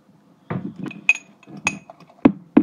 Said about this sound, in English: And let's stir it up.